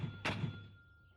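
A field artillery gun fires once in the war game Graviteam Tactics, a single muffled, heavy thud that decays quickly into a low tail.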